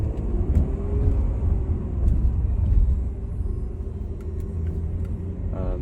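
A 2019 Porsche Macan 2.9T V6 turbo engine rumbling at moderate volume from inside the car, a low steady drone with slight swells in intensity.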